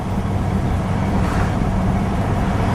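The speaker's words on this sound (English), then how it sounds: "big block, big muscle, big motor. You could hear it there a little bit as we went through that tunnel" A 1970 Plymouth Superbird with its 440 big-block engine drives through a tunnel, a loud, steady, broadband roar of engine and road noise that fills the space.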